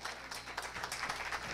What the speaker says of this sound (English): give them a great hand clap